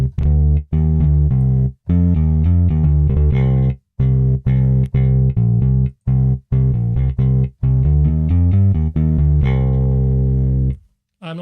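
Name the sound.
electric bass plugin with distortion dialed down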